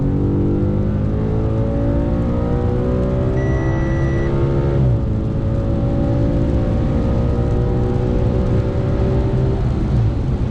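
Race car at a Quattrofest track day in the red group: a steady, loud engine drone whose pitch climbs, drops sharply around the middle at a downshift, then rises again.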